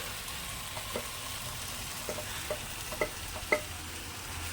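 Roasted eggplant being stirred into hot oil in a pan for a Kathiyawadi brinjal dish, a soft low sizzle with faint scattered spoon taps and scrapes, quiet and without speech.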